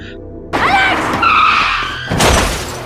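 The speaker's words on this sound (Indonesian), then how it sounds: "Mobil melaju dengan kencang dan secara cepat Alexia menabrakkan dirinya." A speeding car in the film Raw skids loudly with squealing tires, then a harsh crash-like burst of impact and shattering noise follows near the end, all close and loud with no speech.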